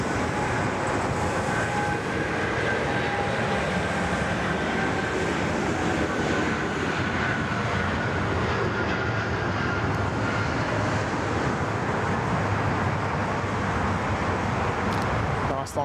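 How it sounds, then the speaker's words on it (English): An Air India airliner on a long takeoff roll at Sydney Airport gives a steady, broad roar of engine and rushing noise, sustained and fairly distant, with a faint tonal whine running through the first part. "Nice long takeoff roll there from Air India."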